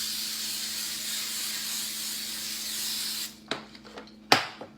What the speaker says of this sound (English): I'm going to give this pan a good spray because we don't want any sticking going on.